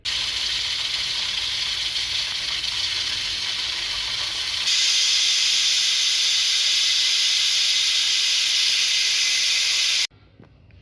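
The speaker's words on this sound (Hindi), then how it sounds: "हम इसके कुकर का ढक्कन लगा देंगे और 3-4 सीटी बजाएंगे" A pressure cooker on a stovetop cooking potato and cluster bean curry lets out a loud, steady steam whistle and hiss that grows stronger midway and runs for about ten seconds before abruptly stopping, with no talk.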